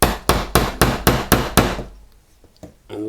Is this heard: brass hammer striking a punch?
yes